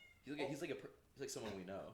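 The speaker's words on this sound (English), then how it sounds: "That's a cat in the background." A cat meows in the background during a basketball podcast, its cries faint and partly buried beneath steady male conversation in the foreground.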